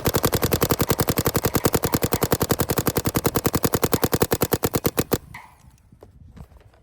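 A paintball marker fitted with a Salty Engineering G6r bolt and poppet fires a long rapid burst of evenly spaced sharp cracks outdoors in cold weather, then stops abruptly, leaving quiet.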